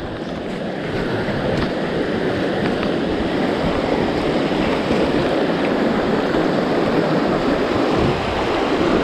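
Clear mountain river rushes steadily and loudly with a dense, unbroken roar of flowing water, close by, with no voices over it.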